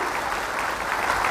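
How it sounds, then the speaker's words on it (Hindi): Audience at a meeting breaks into steady, dense applause, many hands clapping together close by for a short burst. "तालियों में तो बिल्कुल कमी नहीं होनी चाहिए दोस्तों"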